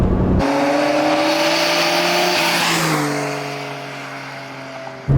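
A 1992 Nissan Skyline GT-R R32 engine revs steadily at high pitch, then the tone drops and settles as the revs ease off; loud and close with no talking.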